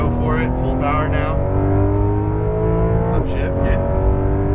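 A Porsche 911 GT3 pulls hard at full power on a race track, its engine note climbing steadily and loud with a brief shift dip, while a driving coach talks over it.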